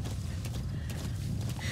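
Horse hooves clop steadily on the ground in the video game Metal Gear Solid V, a rhythmic trot under a low, constant rumble of game ambience.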